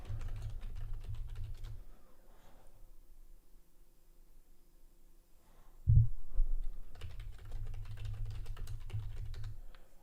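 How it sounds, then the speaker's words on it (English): Someone types on a computer keyboard close by during a live day-trading session, with steady key clatter that pauses in the middle under a low hum, then resumes. "If you do hear me typing, that's just me making alerts in the private trading community that I offer."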